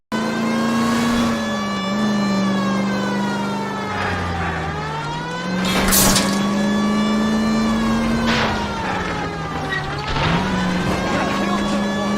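A car engine in L.A. Noire hums steadily and revs up and down as the car drives, with a siren-like whine and voices over it.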